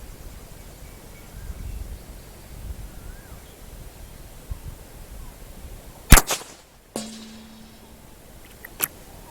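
A single sharp crack from a CZ455 .22 LR rifle fired at a 150-yard target outdoors, close and loud against wind noise, followed by the clack of the bolt being worked.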